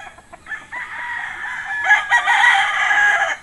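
A young stag rooster, about a year old, crows in a long, loud drawn-out call close by, with a second rising burst partway through; no one speaks.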